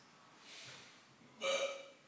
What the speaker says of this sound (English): it's got the hiccups.